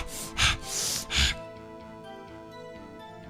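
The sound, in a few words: voice imitating heavy breathing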